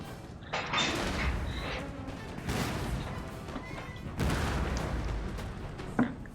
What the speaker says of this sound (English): Cannon blasting through them all there.